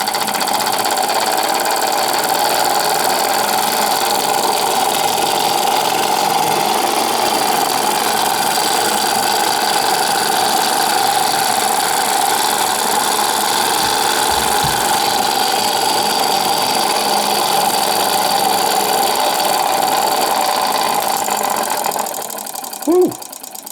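An electric model engine motor from a collection, run on about 20 volts after being spun by hand to start, whirs steadily and loudly throughout with a constant mechanical buzz, then cuts out near the end.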